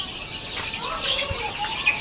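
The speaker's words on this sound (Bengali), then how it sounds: "একদম পিওর দেশি মুরগি" Desi chickens on a poultry farm cluck in a few soft, irregular calls over low background noise, moderately near and not loud.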